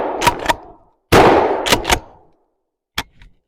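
A Mossberg 500 shotgun fires outdoors: a sharp blast at the start, a louder echoing shot after about a second, then mechanical clacks and a small metallic clatter near the end.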